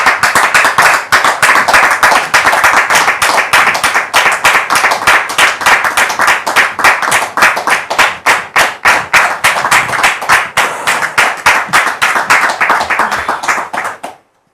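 A studio audience at a French television talk show applauds with dense, sustained clapping that stays loud and even for about fourteen seconds before stopping abruptly.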